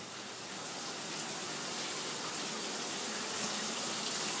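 Shower water running steadily in a home bathroom, a constant broad hiss of spray that holds at an even level throughout, with no voices over it.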